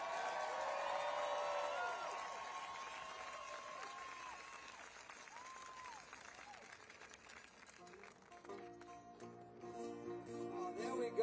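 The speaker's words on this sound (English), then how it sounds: "And a big round of applause for all the people who worked so hard in putting all this together." A crowd applauds at a protest rally at the Lincoln Memorial in Washington, DC: a steady, faint wash of clapping and cheering fills the whole stretch, with voices and tonal sounds rising above it.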